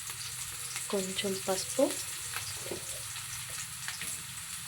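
Onions frying in a pan toward golden brown for mushroom fried rice, a steady close sizzle running throughout with brief stirring clatter and a short spoken line over it.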